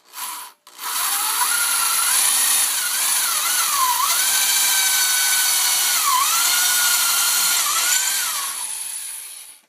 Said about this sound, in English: This is an old drill gun. I use it just for the Kreg jig.